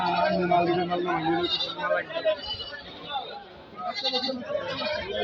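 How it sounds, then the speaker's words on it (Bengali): Goats bleat at Jamalpur haat in Gazipur, a busy livestock market during Eid-ul-Adha. Someone talks throughout, with crowd chatter behind him. "সারা দিন ব্যাপী চলতে থাকে ছাগলের গরুর হাট"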